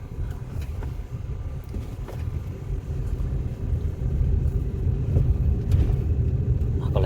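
Nissan X-Trail T31 engine revving under the accelerator pedal, a low rumbling drone that gradually grows louder and rougher, heard from nearby with faint clicks over it.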